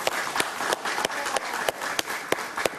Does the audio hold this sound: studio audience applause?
yes